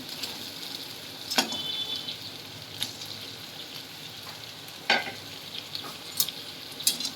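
Fish head frying in hot oil for a moong dal curry, a steady close sizzle broken by a few sharp clacks of a spoon against the pan, no talking.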